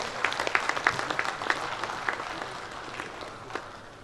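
A conference audience gives a brief round of applause at an opening ceremony, scattered, fairly sparse claps that thin out over a few seconds.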